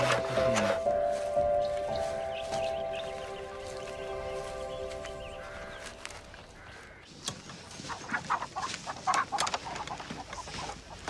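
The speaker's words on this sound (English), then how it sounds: "Chickens have been laying real good since you got here." Farmyard chickens clucking and fowl calls scattered through the scene, with rooster-like cries and bird noises rising toward the end over a music-like tonal background.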